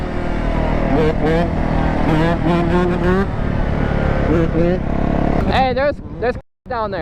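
A two-stroke dirt bike engine revs up and down in a rising, falling whine at a racing lot, loud and close, with a person speaking over it.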